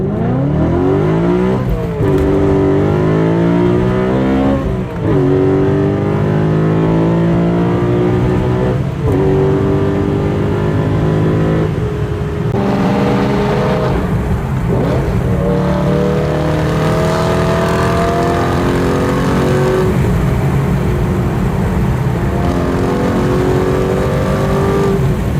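A BMW M3 engine revs up repeatedly through the gears on a test drive, each rising whine followed by a brief drop as it shifts, loud and close throughout.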